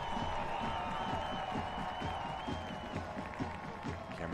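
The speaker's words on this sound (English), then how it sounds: "Coming off to applause." Crowd at a Spokane soccer match applauding as the host side's goal scorer is substituted off, a faint, distant ripple of clapping spread under steady stadium murmur.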